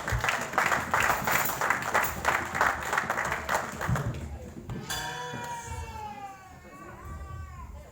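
A church congregation claps in a steady rhythm for several seconds, loud and close, before the clapping fades beneath a single voice speaking or chanting.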